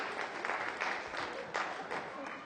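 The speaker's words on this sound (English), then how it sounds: "Henry, give him a big round of applause" Audience applause for Henry, a short, fairly faint patch of clapping in pulsing waves with some voices mixed in.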